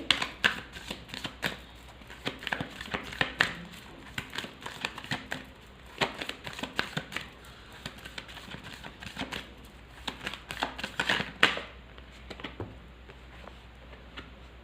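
Tarot cards shuffled by hand in a quiet room, with rapid papery riffles and flicks in bursts across the whole stretch. The sound is close but soft and stops near the end, and no one speaks.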